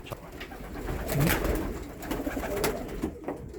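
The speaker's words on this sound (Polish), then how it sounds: "Tutaj już normalnie huczy w gołębniku, taką czuć energię." Racing pigeons in a loft coo softly and repeatedly, a low throaty murmur from a few birds close by, with no talk over it.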